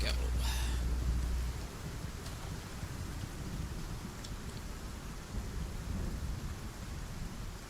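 In the survival game Icarus, a storm brings steady heavy rain and wind noise, with a deep low thunder rumble at the start fading into continuous rainfall.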